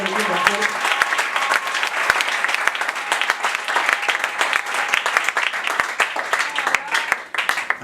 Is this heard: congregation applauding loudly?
yes